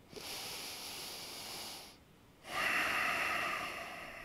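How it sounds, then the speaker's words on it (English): Someone holding a yoga pose breathes heavily through the nose, with a long breath, a brief pause, then a louder, stronger breath. "And I'm breathing here."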